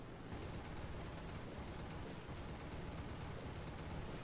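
Aircraft cannons firing in the War Thunder air combat game, a dense, steady roar of rapid gunfire blended with engine noise, continuous and fairly faint throughout.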